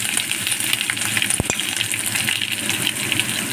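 Curry leaves crackle and sizzle in hot oil with cashews and ginger for a foxtail millet pongal, giving a steady close hiss broken by two sharp clicks partway through.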